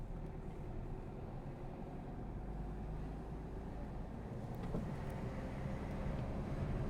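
A car pulling away gently during a driving lesson, a low steady engine hum and road rumble heard from inside the cabin, smooth and unhurried with no sharp changes in pitch.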